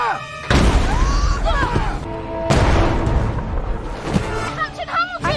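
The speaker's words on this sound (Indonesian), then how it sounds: "Hamilton akan menunjukkan simulasi senjata meriam yang akan ditembakkan ke dalam danau" Cannon fired into a lake in a simulation: heavy booms and crashing blasts with splashy, rumbling bursts, loud and close, mixed with layered music-like tones and sweeping effects.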